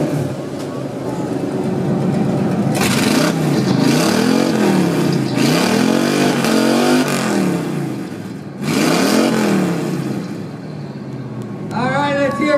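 A 1968 Chevrolet Nova's engine is revved hard at an outdoor car show exhaust rapping contest, with repeated loud rising and falling blips close by, a crowd and voices audible beneath.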